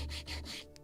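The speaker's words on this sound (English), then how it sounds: "sanding block." Wooden seat part for a 1776 gunboat Philadelphia model ship kit rubbed on a sanding block, three close, steady scraping strokes with a brief faint scrape at the end.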